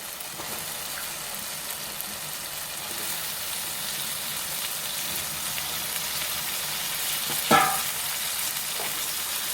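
Brinjal pieces, soaked in salt water, fry in a pan of cooked tomatoes for a tomato brinjal curry, making a steady close sizzle with one sharp clatter near the end.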